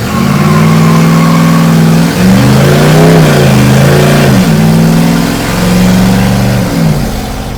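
A 1962 Ford Falcon gasser revs hard and loud during a burnout, its engine climbing and falling in repeated throaty surges with a rough, close, powerful roar and no talking.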